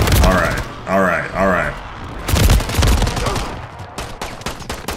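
Gunfire in a Fortnite match, with rapid bursts and single shots around a player who speaks briefly, with a short musical chime early on.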